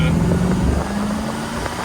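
A 1961 Chevrolet Corvette engine drones steadily while driving, a low continuous hum with a faint shift in pitch partway through, heard close and without talk.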